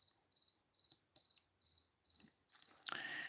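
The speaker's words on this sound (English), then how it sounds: "Crickets." Crickets chirp in short, evenly spaced pulses, faint and steady, with a few sharp clicks and a louder rustle near the end.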